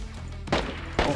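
Two sharp gunshot bursts from a DayZ firefight, the first at about half a second and the second near the one-second mark, standing out against a quiet background.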